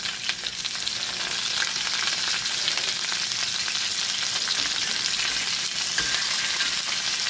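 Chicken pieces browning in a Lodge cast iron skillet for Spanish chicken and rice give a steady, loud, continuous sizzle that holds evenly throughout, with no talking.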